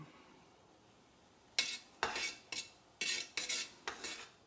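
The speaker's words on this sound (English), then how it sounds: "Let's add that in there. Stir it up." A utensil scrapes and knocks against the fermenter or pot as a Mr. Beer Czech Pilsner brew mixture is stirred. After a quiet start come six or seven close, clattering strokes in a steady rhythm.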